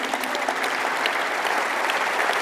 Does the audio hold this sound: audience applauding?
yes